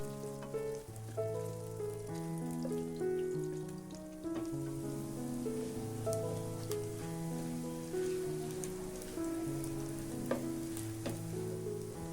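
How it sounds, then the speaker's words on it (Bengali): Sausages fry in hot oil in a wok, giving a dense, continuous crackling sizzle that holds steady at close range with no one speaking. "আমি এখন সসেসগুলোকে ভেজে নিব"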